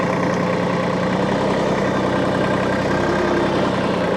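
A vehicle engine runs at low throttle while rolling slowly in a low gear, giving a steady, close, unbroken rumble with a constant low hum and no voices.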